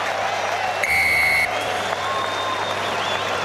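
A large rugby crowd at Toll Stadium roars steadily after a try in a New Zealand Maori versus New Zealand Barbarians match, with a buzzer-like tone sounding briefly and a commentator talking over the noise.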